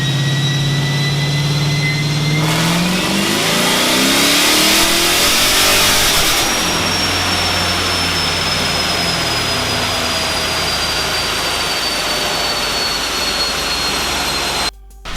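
A supercharged two-valve Mustang V8 revs hard on a dyno, the engine note rising sharply then holding a loud, steady high-rpm roar with supercharger whine until an abrupt cut at the end.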